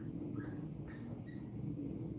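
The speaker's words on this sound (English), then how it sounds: "You can hear them crickets, man?" Crickets chirp outdoors in a faint, continuous high trill, joined by a few short squeaky calls against a low background hum.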